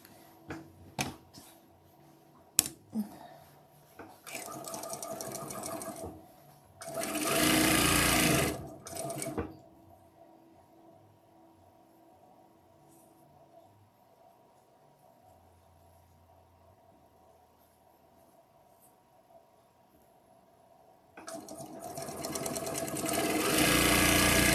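A sewing machine piecing half square triangles for a quilt runs in short bursts: a few brief stitching runs early, a louder steady whir mid-way, then a long quiet gap before it starts up again near the end.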